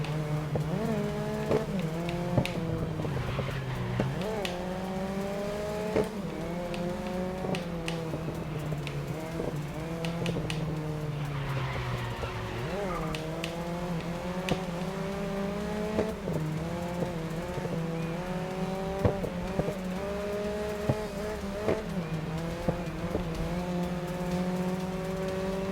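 A race car in GRID Legends drives hard and loud up close, its engine whining and dropping in pitch through gear shifts and corners, with short tire squeals and clicks over a constant roar.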